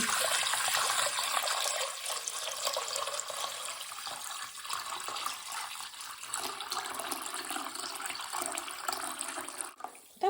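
Tap water runs hard into a 6-litre pot for borscht, a loud continuous rushing stream filling the pan for about ten seconds before it cuts off.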